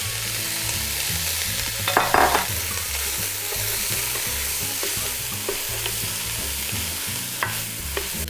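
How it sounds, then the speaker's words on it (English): Hominy toasts in a pot of leftover pork drippings, giving a steady, close sizzle with frequent scraping stirs and a brief louder burst of stirring partway through; no one speaks. "We're now going to toast the hominy right here in the pot"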